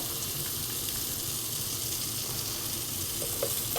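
Butter sizzling in a pan with whole spices like cumin, clove, cinnamon and cardamom, a steady, even hiss that holds unbroken from start to finish.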